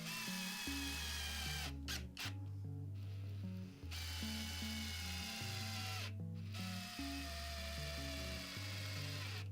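A power drill drives screws through wood into a small hedgehog pond ramp. Its close, whining motor runs in several bursts with changing pitch, separated by brief pauses.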